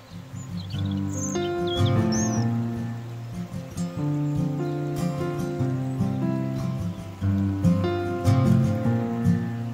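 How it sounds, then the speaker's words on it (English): Birds singing along a riverside path by the Arga River on the Camino Frances, a mix of chirps and song phrases over a steady background rush, moderately faint, with no talk. "The peaceful sounds of singing birds and waterfalls accompany me along the way."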